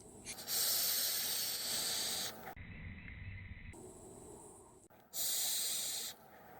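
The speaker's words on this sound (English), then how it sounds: "Let's have another vape and see what I was talking about with this adjustable." Exhaled vapor from a Movkin Disguiser 150W temperature-control mod comes as breathy hissing puffs, two long loud exhales separated by a quieter, muffled inhale, close to the mic with no talking.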